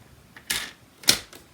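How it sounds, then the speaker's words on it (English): A paper trimmer cuts cardstock in two quick, crisp, close strokes, each a short sharp slicing snap, separated by a brief pause. "we're going to use our trimmer and we are going to just cut off, keeping this line right here."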